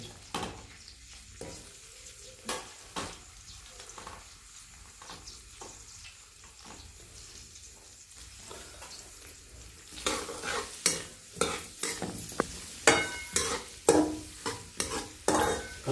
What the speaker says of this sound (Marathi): तेल तापलेलं आहे त्यामध्ये आपण प्रथम कांदा कांदा टाकून कांदा गरम करून घेऊया कांदा चांगला लाल करून घ्यायचा आहे